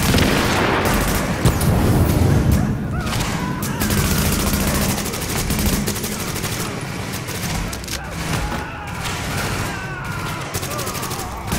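Intense, near-continuous gunfire rattles through a hard-mode mission in the shooter game The Division, with dense overlapping bursts and booms that stay loud for the whole stretch.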